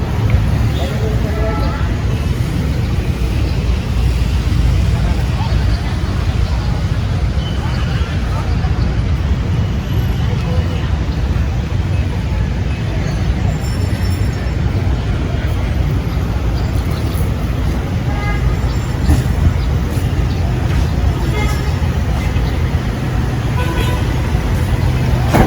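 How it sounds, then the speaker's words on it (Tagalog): Dense city traffic near Davao City Hall close to rush hour, a continuous loud roar of cars, buses and trucks with occasional horn toots, and a voice talking over it. "So, medyo matraffic na yun guys kasi malapit na mag-rush hour."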